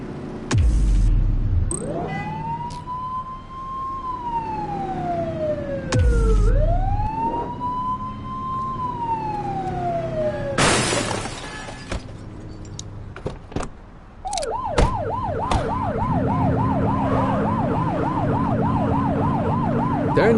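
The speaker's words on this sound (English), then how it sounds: "Turn that siren off. We don't need it on right now." A police car siren from the video game The Precinct wails in long rising and falling sweeps with brief horn blasts between them, then shifts to a fast yelping pattern, loud and close with engine noise beneath.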